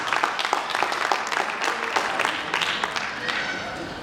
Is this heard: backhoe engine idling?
no